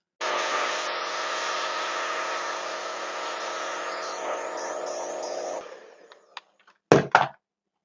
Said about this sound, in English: we're going to do that using a hair dryer and some dental floss.